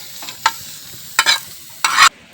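Onions lightly frying in a pan, a soft background sizzle broken by three short bursts of louder hiss and crackle as they are stirred, with no voices.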